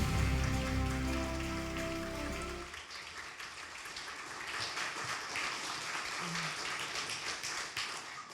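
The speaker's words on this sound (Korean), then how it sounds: "여러분 다시 한번 뜨거운 박수 부탁드립니다" Audience applause at an award ceremony for an innovation prize winner, a dense wash of clapping rising after a sustained musical tone fades, steady and fairly loud throughout.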